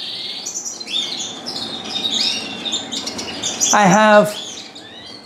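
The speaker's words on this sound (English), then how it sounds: "some young canaries." Young canaries chirp and tweet in a bird room, a string of bright calls close by. Someone speaks briefly near the end.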